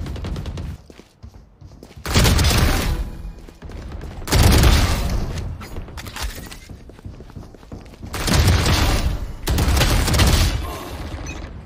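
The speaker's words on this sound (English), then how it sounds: "when you're ADSing, you have to like pull down while you're shooting" Bursts of rapid gunfire from the Stinger submachine gun in a Valorant-style deathmatch come in several sustained volleys separated by short pauses.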